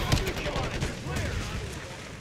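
X12 pistol shots in a video game crack in quick repeated bursts amid busy game noise, with a voice talking over the shooting.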